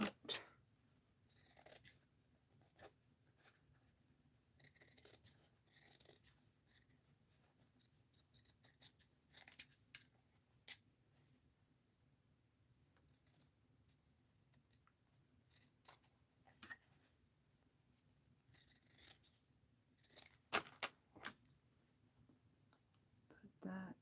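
Scissors snip through paper at a craft table in short, irregular bursts of crisp cuts, fairly quiet, with faint whispery handling noise and soft clicks between the snips.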